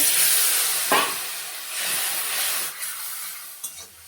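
Water poured into a pan of frying spices and Kashmiri chilli powder for an egg curry sets off a loud, steady hiss and sizzle with a few sharper crackles, with no talking.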